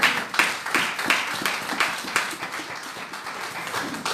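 A church congregation claps in a scattered, moderate burst, with individual hand claps standing out irregularly against a softer wash of applause.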